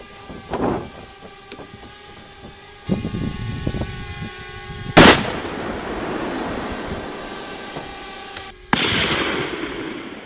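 A Remington Model 700 rifle in .300 Win Mag fires a single loud, sharp shot at a stack of five brake pads, a sudden crack near the middle that is followed by a short rolling echo, with a second bang near the end.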